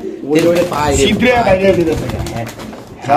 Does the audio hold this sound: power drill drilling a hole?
no